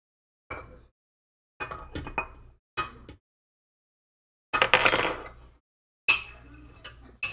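Mixing bowls scraped with a utensil while egg yolks are added for donut dough, several separate bursts of scraping and clinking, close and distinct, separated by silent pauses, no talk.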